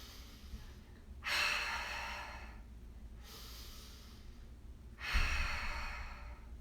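Slow deep breaths during a yoga plank, three long airy exhalations and inhalations spaced a couple of seconds apart, close and soft with no talking.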